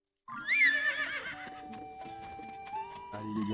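A horse in Zelda: Tears of the Kingdom gives a loud, close whinny, followed by lighter hoof clops and game sounds over a steady background tone.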